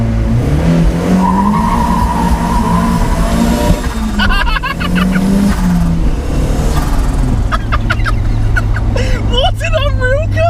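A turbocharged Mk1 Mazda MX-5 drifting, its engine droning and revving loudly up close while the tires squeal and skid in wavering bursts, the screeching growing more intense near the end.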